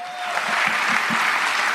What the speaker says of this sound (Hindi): जोरदार ताली के लिए दोस्त